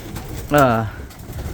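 A pigeon in a breeding loft gives a single clear, close coo lasting under half a second, its warbling tone rising out of quiet background murmur.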